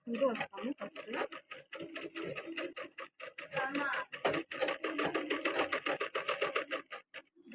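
Fabric for a baby frock is stitched on a sewing machine in close, rapid bursts of clattering needle strokes with brief pauses, while someone talks over the machine.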